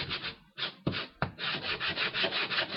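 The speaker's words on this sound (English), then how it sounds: "this is just a sanding block. You can use a piece of sanding paper." Sanding block with sandpaper scrubbing back and forth over a crafting piece: close, dry rasping strokes with brief pauses, then a quick steady run of rhythmic rubs.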